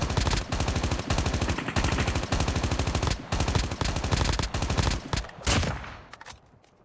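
Sustained rapid automatic gunfire in the Call of Duty video game, loud and close, in several long bursts broken by short gaps before fading away at the end.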